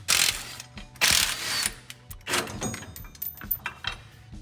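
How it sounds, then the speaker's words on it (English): A ratchet wrench clicks in quick bursts while stock U-bolts are unbolted from a Toyota pickup truck axle, loud close metallic ratcheting in several separate runs with short pauses between. "Take off the stock U-bolts."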